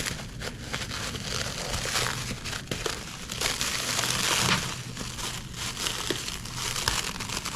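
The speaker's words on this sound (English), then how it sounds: "we'll go ahead and get that unwrapped here" A used mechanical injection pump for an OM606 diesel engine is unwrapped from its wrapping, giving steady close crinkling and crumpling with brief sharper rustles throughout.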